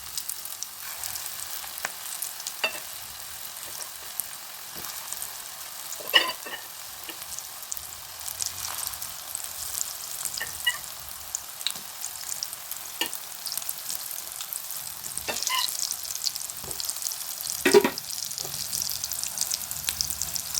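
Tapioca (kappa) snack pieces fry in hot oil, with a soft, continuous sizzle and bubbling held for a long stretch, dotted with occasional light clicks and taps as the pieces are turned.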